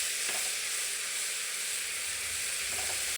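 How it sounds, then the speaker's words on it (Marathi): Spice paste sautéing in an oil tempering with asafoetida and curry leaves, a dense, even sizzle with a couple of faint stirring scrapes, close and continuous until it cuts off. "छान असं परतवून घेऊ।"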